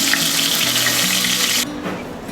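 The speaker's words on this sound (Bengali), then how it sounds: "মাছগুলো ভাজা হয়ে গেছে, এবার আমি এগুলোকে তেল থেকে উঠিয়ে নিচ্ছি" Basa fish fry in a pan of hot oil, a loud, steady hiss and sizzle that cuts off abruptly partway through, leaving a softer background bubbling.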